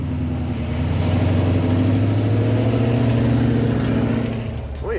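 A lifted purple Plymouth gasser's engine drones loudly and steadily up close, a deep throbbing idle swelling into a sustained rev before easing off near the end.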